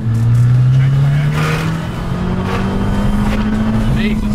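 An Abarth 595 Stage 2 tuned to 218bhp accelerates hard, its engine note climbing steadily in a loud, close drone from inside the car, with a voice speaking over it.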